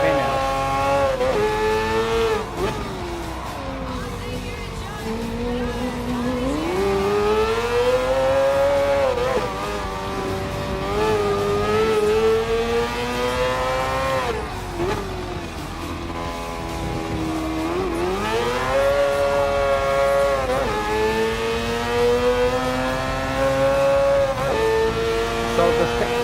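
Mazda 787B rotary-engine Le Mans prototype race car in Gran Turismo Sport, its high-pitched engine note rising and falling steadily through gear changes and corners, loud and continuous throughout.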